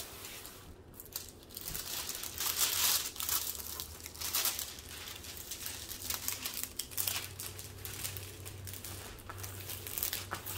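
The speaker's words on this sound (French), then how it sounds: "Je vais tirer la toile comme ça pour essayer de l'aplatir un peu mieux." A diamond painting canvas and its plastic cover sheet pulled and flattened by hand, producing continuous close crinkling and rustling of plastic, quiet and uneven, with no talking.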